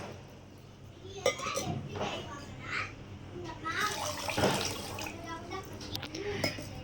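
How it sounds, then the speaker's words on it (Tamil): Water is poured into a cooking pan to make gulab jamun sugar syrup, a steady splashing stream with faint clinks of pots and utensils, heard under ongoing talk. "இதில் இப்போ நான் தண்ணி ஊற்றி உங்களுக்கு காட்டுறேன் பாருங்கள்"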